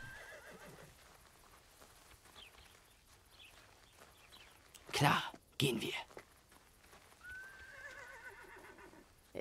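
Horses in the Wild West game Desperados III whinny loudly twice in quick succession amid hoof clip-clops and quiet whispering voices, followed by a softer neigh.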